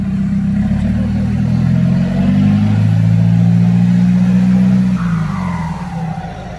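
An Isuzu truck engine revs hard and close, its loud, deep rumble swelling steadily, then easing off as the pitch drops, with no voices over it.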